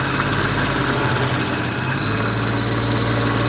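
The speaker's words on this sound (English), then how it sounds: "I just put an older Scotch-Brite belt on my" A 2x42 belt grinder running with a worn Scotch-Brite belt gives off a loud, steady whirring motor drone with a broad abrasive hiss and a slight shift in pitch partway through.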